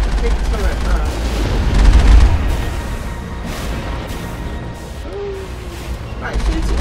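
Gunfire in Mass Effect aimed at a big turret: rapid bursts of shots and booms with heavy rumbling impacts, loud and close, while a voice talks over the action.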